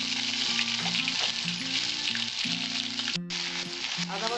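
Onion paste and a bay leaf sizzling in hot oil for a Bengali egg omelette curry, a steady close frying hiss running throughout while music plays along underneath, with no talking.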